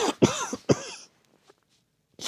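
A person coughs close to the microphone, three rough bursts in quick succession and then a short clearing of the throat, followed by near silence and one faint sound at the end.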